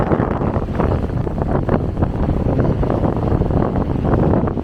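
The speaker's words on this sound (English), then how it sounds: "The wind is blowing about" Strong wind of about 30 to 40 miles an hour blowing at sea, buffeting the microphone with a loud, continuous roar and gusty rumble throughout.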